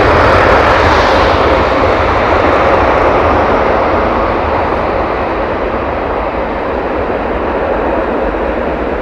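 Loud, sustained roar of airliner jet engines at London Heathrow, a broad steady rumble and whine holding close and strong throughout with no voices.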